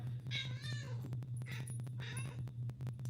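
A talkative cat meows indoors, close and clear, with about three drawn-out meows set against a steady low hum.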